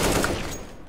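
Burst of CS:GO gunfire in a competitive match, a dense rattling volley that fills the whole second, loud and close, then thins toward the end with no talk over it.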